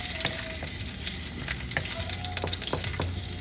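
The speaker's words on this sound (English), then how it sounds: "Fry this a little bit." Ginger and garlic fry in a pan for pepper chicken masala, a dense close sizzle with quick scraping stirs throughout, no speech.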